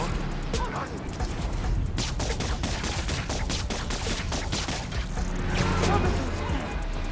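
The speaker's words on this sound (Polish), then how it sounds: "Wybuch gazu." Rapid bursts of gunfire and a heavy gas explosion crash over a constant rumbling roar in Marvel's Spider-Man: Miles Morales, loud and dense throughout.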